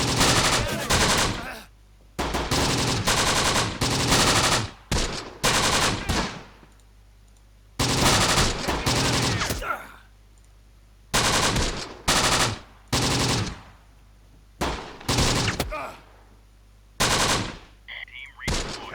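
Machine gun fire in the video game Close Combat: The Bloody First comes in loud, dense bursts of rapid shots broken by short silent gaps, rattling repeatedly through the whole stretch.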